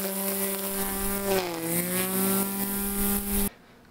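An electric lawnmower, powered from a portable solar power station, runs steadily at close range with a strong, constant motor whine that dips briefly in pitch midway, then cuts off abruptly near the end.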